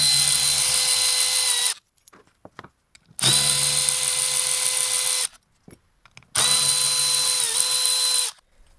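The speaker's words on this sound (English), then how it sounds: "you're going to be using the T30 again right here. Break them loose, and then you can whiz them off" A power tool zips T30 bolts out of the valve body of a Mercedes SL55 AMG in three loud close bursts of high whirring, each about two seconds long, separated by quiet pauses with small clicks.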